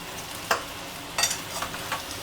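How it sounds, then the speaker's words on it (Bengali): Chicken pieces fry in a hot pan for chicken chow mein, giving a steady close sizzle with a few louder stirring scrapes and hisses and no talking. "এবার চিকেনটা দিচ্ছি।"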